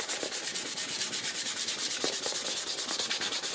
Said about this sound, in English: it doesn't take very long with a piece of sandpaper to get that stuff off